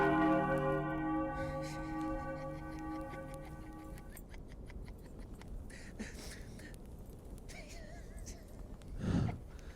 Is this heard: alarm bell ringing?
yes